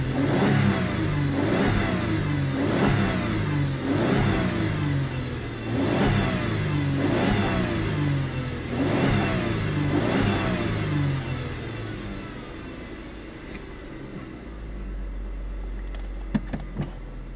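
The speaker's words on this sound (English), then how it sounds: "Starts right up. No check engine lights. Runs smooth. Idles like a baby." A 2003 Chrysler Sebring engine starts and revs repeatedly in rhythmic bursts, loud and close, then settles into a quieter idle.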